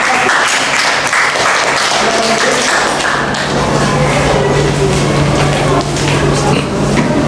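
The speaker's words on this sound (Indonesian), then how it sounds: "Kita berikan aplaus untuk kelompok 3." A classroom audience claps for a presenting student group at a teacher-training session, a dense, steady burst of applause lasting several seconds with thumps mixed in.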